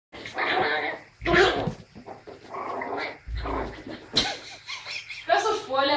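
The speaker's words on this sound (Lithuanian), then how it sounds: "Tai šuo." A dog makes close, agitated vocal sounds in a home while people talk loudly over and between them.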